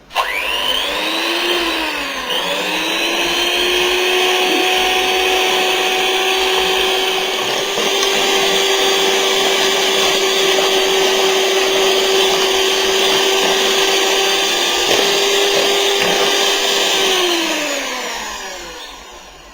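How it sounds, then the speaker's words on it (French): An electric hand mixer whirs steadily while beating chocolate cake batter, a loud, continuous motor whine holding nearly twenty seconds, starting with a brief pitch dip and winding down at the end, with no talking. "je suis obligée de battre sur ma chaise parce que le fil de mon batteur est trop court"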